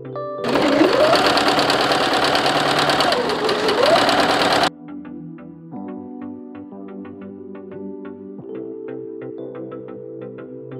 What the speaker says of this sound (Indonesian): menjahit dengan mesin